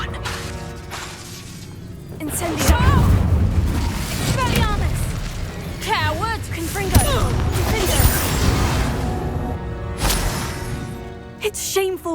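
Incendio fire spell cast in Hogwarts Legacy, a burst of whooshing flame and crackling impacts over combat, with several loud booms and a voice shouting through the fight.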